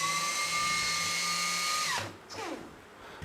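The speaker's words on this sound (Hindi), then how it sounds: "मेरी ड्रिल है, मैं इसे चला के चेक करता हूँ।" A cordless drill powered by a homemade DC battery pack whirs steadily at high speed for about two seconds, then the motor cuts off and winds down with a falling whine, followed by a brief second spin-up.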